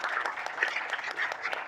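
Brief, fairly faint applause from guests at an online hangout, a scattered patter of claps over a couple of seconds with no voices.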